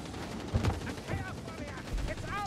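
Skaven ratling gunner in Vermintide, a rapid rattling stream of gunfire in a fantasy battle, moderately loud and continuous under excited in-game speech and shouting.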